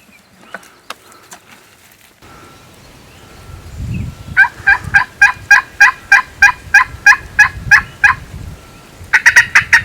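A wild turkey gobbles back in spring woods after a call. Sharp clicks come first, then a long run of rapid, evenly spaced gobbling pulses, loud and fairly close, ending in another dense burst.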